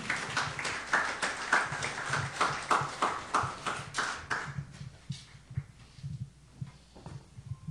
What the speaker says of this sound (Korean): 우리 목사님 나오실 때 감격의 마음으로 우리 박수로 환영하죠.